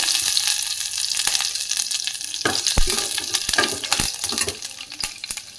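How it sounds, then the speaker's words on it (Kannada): Mustard seeds and cumin sizzling in hot oil for fenugreek leaf sambar, a dense continuous crackle with sharp popping seeds and a few stirring clatters, loud and close with no talking. "ಈಗ ಎಣ್ಣೆ ಬಿಸಿಯಾಗಿದೆ. ಇದಕ್ಕೆ ನಾನು ಸಾಸಿವೆ ಜೀರಿಗೆಯನ್ನು ಹಾಕ್ತಾಯಿದ್ದೀನಿ"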